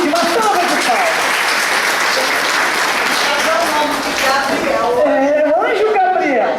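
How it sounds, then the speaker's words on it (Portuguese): A crowd applauds steadily for a speaker at a gathering, dense continuous clapping filling the room, with voices rising through it near the end. "Gente, uma salva de palmas."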